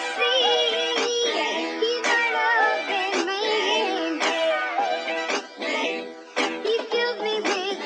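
A beat built from a pitched, chopped vocal sample with claps runs through EQ and phaser processing. Choppy sung fragments swirl and shift over sharp rhythmic hits, dense and continuous, with no spoken voice.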